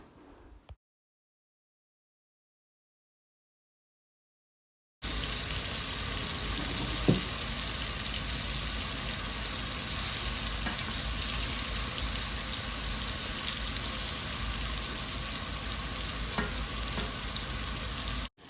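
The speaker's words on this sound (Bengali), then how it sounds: "আমি বেগুনগুলো একটু হলুদ লবণ দিয়ে ফ্রাই করতেছি" Eggplant pieces frying with turmeric and salt, a loud, dense sizzle of hot oil that starts abruptly after a short silence and holds steady and close, with a few faint clinks.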